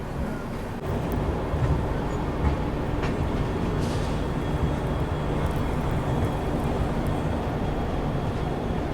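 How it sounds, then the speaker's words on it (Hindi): Dibrugarh Rajdhani Express pulling out of Dibrugarh railway station at night, a steady loud low rumble of rolling coaches that holds constant throughout, with no talk. "तो अपनी डिब्रूगढ़ राजधानी एक्सप्रेस अपने एकदम शेड्यूल टाइम से निकल चुकी है डिब्रूगढ़ रेलवे स्टेशन से।"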